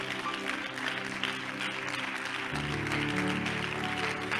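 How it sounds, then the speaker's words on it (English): A church congregation claps their hands in praise during a service, a dense, continuous wash of applause with sustained musical tones underneath. "give the Lord a hand clap of praise"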